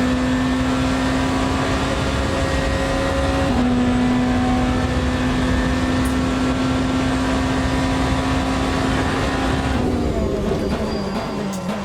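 Race car engine in Le Mans Ultimate holds a loud, steady high drone at near-constant revs, shifting pitch briefly partway through and dropping near the end.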